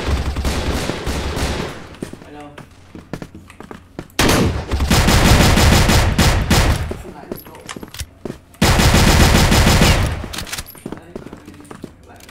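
Three-shot shotgun firing in the shooter game CrossFire, loud bursts of rapid gunfire in two long dense volleys separated by quieter stretches of game noise.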